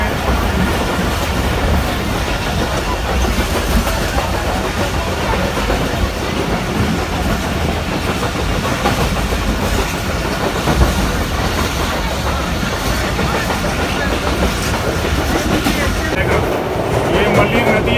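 Inside a moving train near Karachi, a steady rumble mixes with rhythmic clickety-clack of wheels on rail joints, loud and continuous, with someone talking over the noise.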